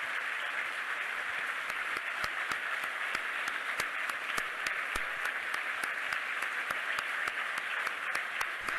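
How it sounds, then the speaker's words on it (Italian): Sustained applause from a large crowd, many hands clapping in a steady, even roar that lasts throughout without voices. "con un applauso che deve arrivare a Padova"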